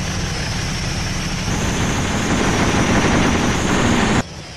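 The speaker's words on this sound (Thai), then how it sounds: "พอมาข้างนอกเสียงปืนเสียงอะไรไม่รู้ถล่มยิงกันแหลกลานเลย" Dense, continuous gunfire rattles nonstop under a heavy engine rumble in a tank video game (Steel Armor: Blaze of War, M60A1), loud and close, then cuts off abruptly near the end.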